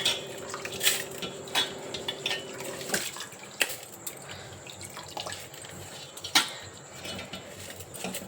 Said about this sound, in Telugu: ఇప్పుడు ఒక మిక్సీ జార్ తీసుకొని